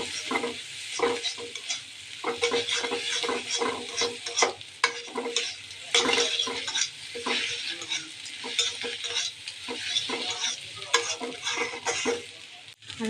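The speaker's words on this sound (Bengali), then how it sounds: "পটল ভাজার মধ্যে আমি ডিম দেবো" Egg cooks with fried pointed gourd in a hot pan, a continuous sizzle broken by rapid, rhythmic scraping and tapping of a spatula stirring against the metal, close and fairly loud.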